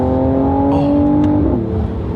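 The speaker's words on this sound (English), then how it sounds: "you do hear the exhaust" Exhaust of a 2022 Mercedes-AMG CLS 53 4matic+ heard from inside the cabin while driving, a steady loud engine drone with a brief shift in pitch partway through and no talking.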